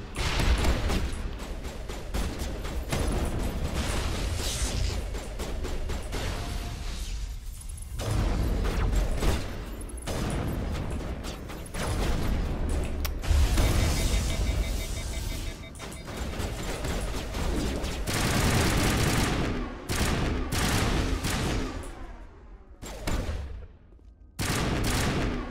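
High-explosive rounds fire in a Mass Effect Legendary Edition fight as rapid, repeated bursts of heavy gunfire and blasts, loud and close, with short pauses between volleys over about 25 seconds.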